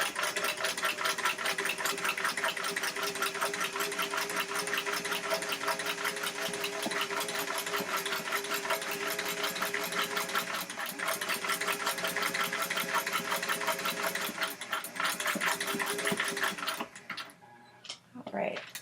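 Vintage sewing machine fitted with a buttonholer attachment runs steadily, stitching around a buttonhole with a fast, even mechanical chatter, close and loud, slowing and stopping near the end.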